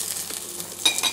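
Red onion frying in lard in a home kitchen, a soft, steady sizzle with a few light scrapes of stirring near the end, fairly quiet and alone.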